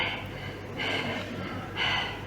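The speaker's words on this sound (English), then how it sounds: "the first method is to moisten the counting chamber with your breath like" Breath pushed repeatedly onto a haemocytometer counting chamber to moisten it in a haematology lab, heard as two or three soft, close breathy exhalations with short pauses between them.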